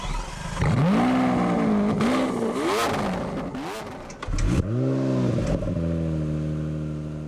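A 730-horsepower car engine revs hard, rising and falling through several loud, close sweeps, drops off briefly, then roars up again and settles into a sustained high drone.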